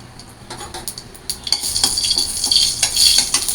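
Bay leaf and cumin seeds fry in hot oil in a wok, a bright sizzle building over a few seconds with light scraping and clinking of a utensil against the pan, close by, without voices.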